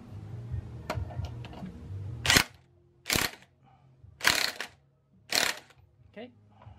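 An impact gun tightens the nut on a Sur Ron Light Bee primary drive chain sprocket, firing in four short loud bursts separated by brief pauses, close by.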